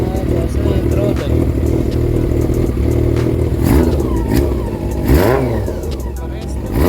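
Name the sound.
Honda CB400 cafe racer engine revving during throttle check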